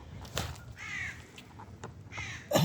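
A crow cawing several times at moderate distance while foraging for food outdoors, with short harsh calls spaced across a quiet background.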